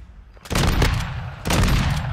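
Two loud bursts of automatic gunfire in Call of Duty Modern Warfare 2 come after a brief quiet, with the second burst starting about a second after the first.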